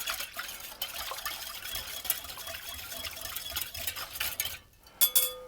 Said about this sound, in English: And it will dissolve more easily if I whisk it just by itself for a moment.